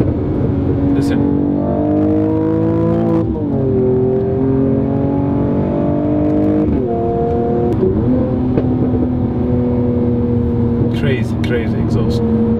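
A 2019 Mercedes-AMG CLS 53 growls loudly from inside while driving, its engine note climbing in pitch through several gears with brief dips at each shift and a steady drone toward the end.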